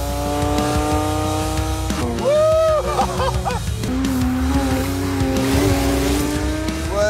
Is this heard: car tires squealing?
yes